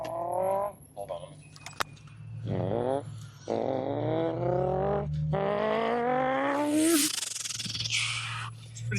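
A voice imitates a car engine, rising and falling with revving, growling tones for several seconds, close up and fairly loud.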